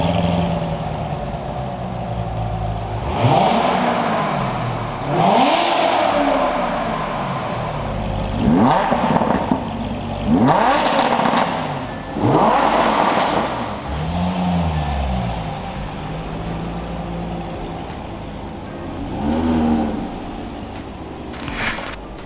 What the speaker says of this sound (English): Again, in a third-mile roll race.